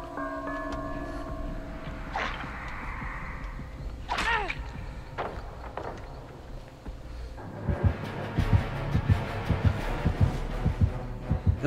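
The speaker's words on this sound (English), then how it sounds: "Why did the heartbeat show up now?" The killer's heartbeat in Dead by Daylight comes in midway as a steady run of deep, regular thumps. It grows louder over several seconds, after whooshes and other game sounds.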